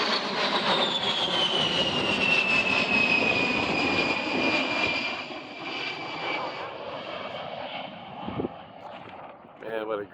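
A USAF A-10 Thunderbolt II jet on its final air show pass in Stuart, Florida, roars loudly overhead with a long falling whine of engine tone, gradually receding while voices murmur in the background.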